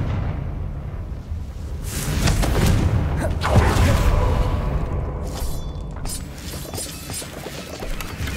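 Blasting Confringo spell explosions from Hogwarts Legacy, a loud booming burst with crackling debris that swells mid-clip and trails off into rumbling, continuous game noise.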